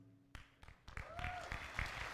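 Scattered applause from a graduation audience honoring administration staff who stand in the room, starting as a few separate claps and building into steady clapping, with faint voices underneath.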